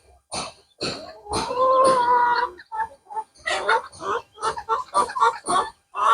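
Guinea fowl on a small self-sufficiency farm give a run of loud, close, harsh rhythmic calls in quick bursts, one drawn-out cry followed by choppy repeated squawks.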